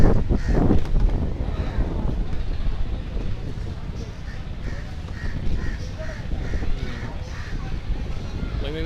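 Strong wind buffeting the microphone at the three-river confluence at Chandpur Molehead, a continuous low rumble with crows cawing repeatedly in the background and a voice speaking briefly at the start.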